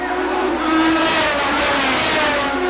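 A Toyota Atlantic race car engine at the 1990 Toronto street race stutters after a missed shift, a loud, steady mid-pitched drone with wavering tones as it loses momentum, filling the whole stretch with no talk.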